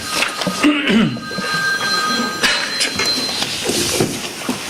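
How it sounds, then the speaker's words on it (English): A mobile phone rings with thin, steady electronic tones for a couple of seconds during a Cortlandville town board meeting, sounding over a noisy room with shuffling and murmuring. "let me apologize for my phone ringing"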